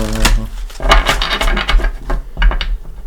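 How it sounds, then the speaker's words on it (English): Tarot cards riffle and slap together in a few quick bursts, crisp rustling and tapping close by, with no voices. "All right, one more shuffle."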